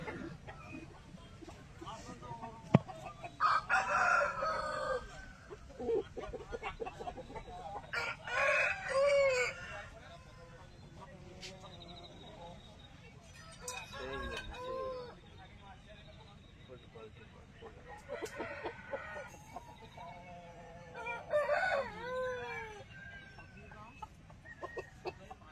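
Chickens cluck and roosters crow repeatedly at an outdoor poultry market, with several birds calling in bursts throughout, mixed with voices talking nearby.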